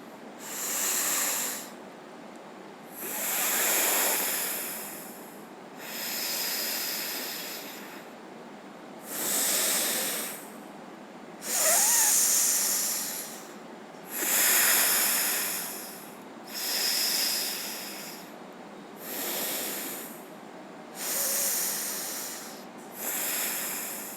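Long, loud breaths drawn in and pushed out through alternate nostrils, starting on the left, in a slow steady cycle of about ten breaths during yoga pranayama, with no talking.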